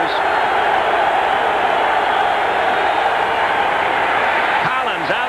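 A dense, steady roar from a large football stadium crowd at a 1985 NFL AFC divisional playoff game between the Raiders and Patriots, holding loud and constant throughout with no clear break.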